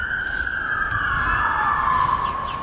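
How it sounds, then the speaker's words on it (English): A loud emergency vehicle siren wails nearby, one sustained tone sweeping slowly down in pitch over a rumbling traffic background. "Sirens."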